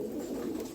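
A Sialkoti pigeon held in the hand gives a single soft, low coo, brief and close, with no talking over it.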